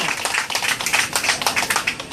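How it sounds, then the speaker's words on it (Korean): A church crowd gathered for a street sermon near Seoul Station claps for a pastor, a fast, dense patter of many hands that holds steady and fairly close, with no one speaking over it. "최 목사님 위해서 박수 한번 부탁합니다"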